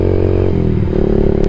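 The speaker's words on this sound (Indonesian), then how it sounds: "mau tes ride tes sound pakai knalpot yang kemarin saya pasang" A Yamaha MX King 150 motorcycle fitted with a Rob1 TGA aftermarket exhaust idles loud and close, a steady deep burble whose pitch shifts slightly partway through.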